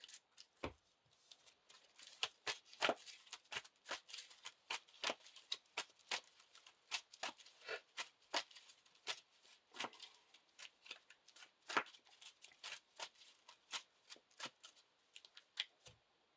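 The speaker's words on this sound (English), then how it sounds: "I get to shuffle my discard pile back into my deck." Playing cards riffled and shuffled repeatedly, a steady stream of crisp snapping clicks, close up and faint, with no talking.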